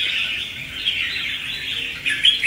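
A red-whiskered bulbul, a prized caged songbird with a thick black bib, chirps continuously in clear, close, bright tweets, with a louder burst of calls near the end and no voices.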